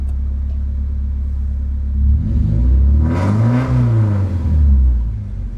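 Volvo 240 engine revving against launch control while stationary, a steady idle rumble that swells into two rising and falling revs, loud and close with no talking.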